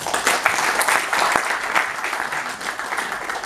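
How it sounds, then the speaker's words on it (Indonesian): An audience claps during a monodrama performance of a Rendra play, a dense, even burst of applause from a crowd lasting a few seconds with no talk over it. "Tepuk tangan kawan-kawan."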